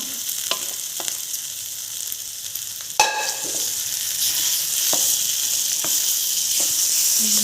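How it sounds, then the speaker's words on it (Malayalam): Vegetables for a masala dosa filling tipped into a hot pan with a sharp clatter, then a steady close sizzle and frying hiss with scraping stirs and spoon taps, no voices. "ഇതിലേക്ക് നമ്മൾ നേരത്തെ റെഡിയായ വെജിറ്റബിൾസ് ഇതിലേക്ക് ചേർത്ത് കൊടുക്കാം"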